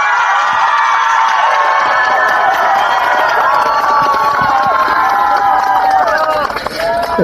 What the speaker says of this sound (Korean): 이재명 당대표고 힘차게 한번 박수로 모셔보겠습니다